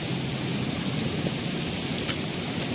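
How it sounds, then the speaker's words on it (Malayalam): Heavy rain pours steadily in a dense, even hiss of drops on surfaces, close and continuous, with a few sharper drip impacts standing out and no voices. "നല്ല മഴ പൊടിക്കുന്നു."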